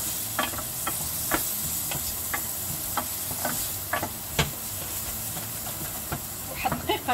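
Garlic and lemon sauté in a pan with a soft, continuous sizzle and hiss. Scattered utensil clicks and taps from stirring cut through the sizzle.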